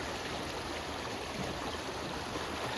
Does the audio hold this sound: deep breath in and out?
no